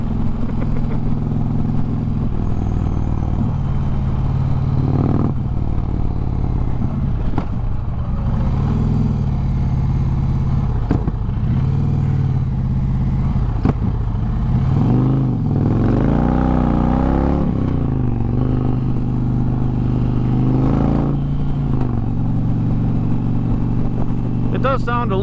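A loud, rumbling Dodge Challenger exhaust drones and revs continuously with highway road noise, with people talking over it.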